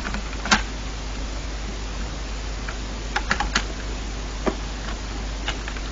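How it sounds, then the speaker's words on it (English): A computer keyboard being mashed, sparse scattered key clicks and short clusters of taps over a steady background hiss, faint and fairly close. "I've been mashing my keyboard"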